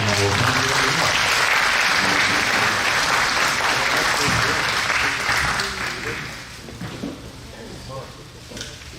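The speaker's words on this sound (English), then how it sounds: "give a round of applause for Don" A crowd of attendees applauds a signal corps speaker, the clapping dense and steady for about five seconds before thinning into scattered claps, with faint voices underneath.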